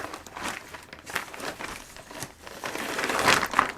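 An old plastic potting bag, turned inside out, is crinkled and handled nearby, producing irregular crackling rustles that grow busier and louder toward the end, with no speech.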